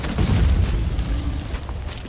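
A bomb blows up in the survival video game Conan Exiles, a heavy, sustained low rumble with a roaring crackle that stays loud across the whole clip.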